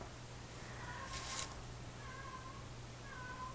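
A pet cat named Jack meows quietly in the distance, a few faint drawn-out calls spread across a steady low hum of room noise, heard on their own with no talking.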